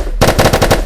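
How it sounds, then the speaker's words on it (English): Short burst of rapid automatic fire from an MP9 submachine gun in a video game, several loud sharp shots in quick even succession. "MP9. Very controllable recoil and slightly faster fire rate than the Mark 18."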